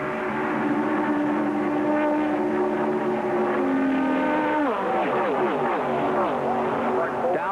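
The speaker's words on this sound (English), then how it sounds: "The cars that are running together look like they're kicking pretty good through the tri-oval now." Stock cars run together through the tri-oval in the 1981 Busch Clash NASCAR Winston Cup race, their engines a loud, continuous droning roar with pitch shifts as they pass, under a commentator's voice.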